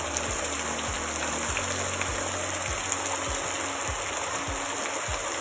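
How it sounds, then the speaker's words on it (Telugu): Heavy rain pours down in a steady, even hiss with no voices, while soft low thuds repeat at a regular pace beneath it. "మీరే వినండి వర్షం సౌండ్ ఎంత గట్టిగా అయితే వస్తుంది."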